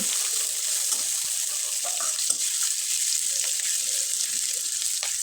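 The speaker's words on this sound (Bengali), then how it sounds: "কড়াইয়ে দুই টেবিল চামচ তেল ব্যবহার করলাম হাফ চামচ জিরা ব্যবহার করলাম এরপরে এখানে পেঁয়াজ কুচি রসুন কুচি এবং মরিচ কুচি দিয়ে খুব ভালোভাবে নেড়ে চেড়ে নিব" Chopped onion, garlic and green chili sizzle steadily in hot oil with cumin in a pan, a loud and continuous frying hiss with soft stirring scrapes and no talking.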